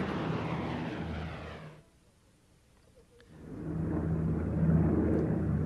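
The Enola Gay bomber takes off at night, a loud steady propeller-engine drone that cuts out briefly mid-clip and then swells back, with no one speaking.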